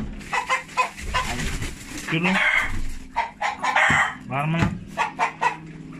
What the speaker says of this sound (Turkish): Ya bu horoz niye bağırıyor?